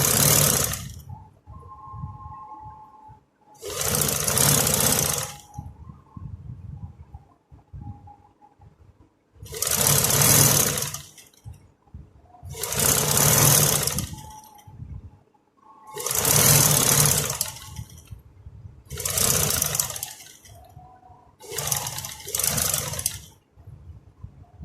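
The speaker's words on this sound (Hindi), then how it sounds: "तकरीबन एक पैर से थोड़ी सी ज़्यादा सिलाई लगाते हुए इसको जोड़ लेंगे" A sewing machine stitches a plain kurti neck patti in repeated bursts of close, loud whirring, each run a couple of seconds long, separated by quiet pauses.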